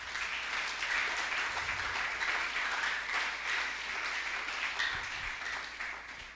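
Sustained applause from a church congregation, steady and full for several seconds with a dense wash of clapping and no speech over it.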